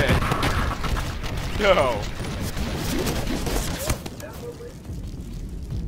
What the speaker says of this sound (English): Who's still shooting at me?